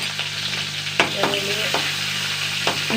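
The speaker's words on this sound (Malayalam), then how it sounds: "അതിൻ്റെ ഇടയിൽ കൊണ്ട് കറിവേപ്പില ഒന്ന് മൂക്കട്ടെ" Curry leaves crackle and fry in hot oil while a spoon scrapes and stirs the pan a few times, the sizzle steady and close with no voices.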